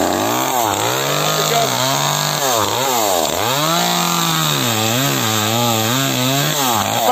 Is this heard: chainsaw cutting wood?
yes